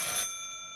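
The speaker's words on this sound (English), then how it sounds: "Dude, my phone's ringing" A phone rings in a brief, bright electronic chirp with sustained tones that ring on and fade over less than a second, with no talking.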